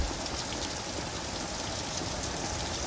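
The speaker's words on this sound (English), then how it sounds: "It's also starting to rain now" Steady rain pours down outside a garage during work on a Bronco, a dense, continuous hiss of drops on surfaces that holds level throughout with no voices.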